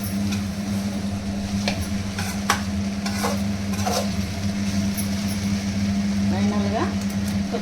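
A spiced gobi (cauliflower) fry mixture is stirred in a pan, giving intermittent scraping and clinking strokes over a low sizzle and a steady hum, with a voice speaking now and then.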